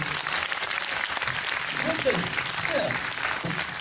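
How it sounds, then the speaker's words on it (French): Applause and clapping from an audience for actress Éléonore at a Plus belle la vie finale event in Rochefort and Saintes, moderate and continuous, with voices talking over it. "On peut applaudir Éléonore,"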